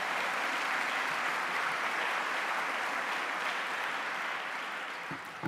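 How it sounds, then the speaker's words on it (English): Audience at a university address applauding, a dense, steady wash of clapping from many hands that holds evenly and then begins to thin and fade near the end. "A round of applause for her."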